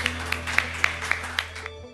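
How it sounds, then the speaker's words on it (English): A handful of individual, evenly spaced claps ring out from a conference audience at MODXpo 2022, crisp and fairly close over a low room hum, thinning out after about a second and a half. "Yeah, another round of applause, yeah."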